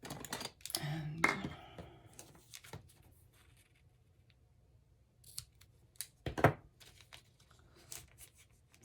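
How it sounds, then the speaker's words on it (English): Scissors snipping tape while assembling a shaker card, a few crisp close cuts and rustles spread across quiet stretches, with one louder snip near the middle. "I could cut my tape, probably."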